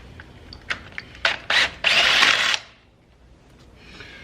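A power drill removing bolts while replacing an alternator gives a few short bursts, then one longer whirring run lasting about a second, close and loud, followed by quiet.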